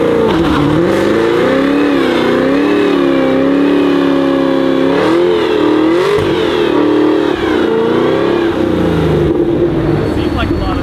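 Car held on line lock for a burnout, engine revving hard and loud in surges, harmonics rising and falling, with a steady roar throughout; a person speaks over it.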